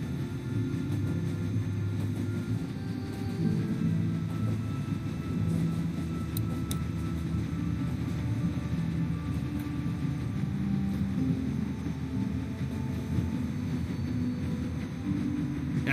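Steady low rumble of a moving train in The Walking Dead video game, a continuous loud drone holding evenly throughout with no voices.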